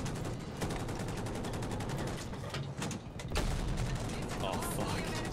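Sustained automatic gunfire from a Battlefield 2042 match rattles in dense rapid bursts throughout, with heavier booms mixed in and occasional voices under the shooting.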